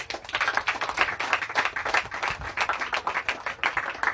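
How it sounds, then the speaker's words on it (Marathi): A congregation claps loudly at a Father's Day religious gathering, producing a thick, sustained patter of many hands that continues steadily from start to finish. "त्या स्वर्गीय पित्याच्या रूपामध्ये आलेल्या प्रभू येशू ख्रिस्तासाठी जोरदार टाळ्या वाजवा."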